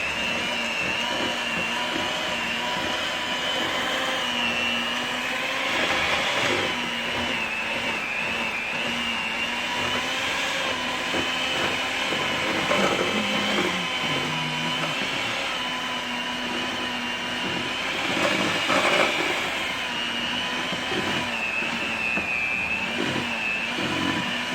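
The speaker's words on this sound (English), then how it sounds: "And you mix this up with your hand mixer." A hand mixer whirs steadily through a bowl of pimento cheese seasoned with granulated garlic, a loud, continuous motor drone that holds nearly level for the whole stretch with only slight swells in pitch and strength.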